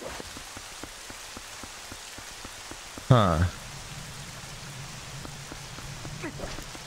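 Steady rain patters down in The Legend of Zelda: Twilight Princess HD, a constant soft hiss of drops with a brief louder game sound in the middle and a short spoken murmur.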